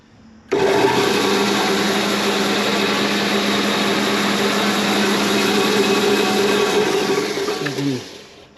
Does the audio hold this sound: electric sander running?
yes